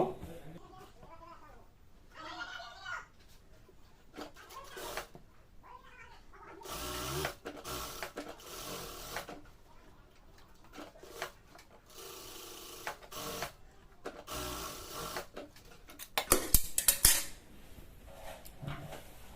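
A sewing machine stitches a side seam of a salwar in several short bursts of fast mechanical whirring, close and moderately loud, separated by pauses with light handling sounds and a voice talking between runs.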